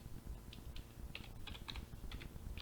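Computer keyboard typing close to a microphone, a quiet run of irregular key clicks in small bursts over a low background hum.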